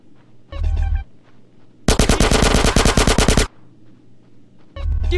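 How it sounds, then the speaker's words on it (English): Automatic gunfire rattles in GTA San Andreas, with a long burst of rapid, loud shots in the middle, framed by shorter bursts and bass-heavy booms at the start and end. "Give me some fucking covering fire!"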